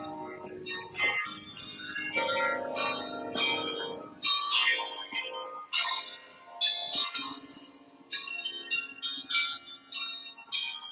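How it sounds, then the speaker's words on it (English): Church bells ring out in a bright, layered melodic peal over a side street in Hoorn, Netherlands, the chimes overlapping steadily with little else around them. "with the beautiful church bells."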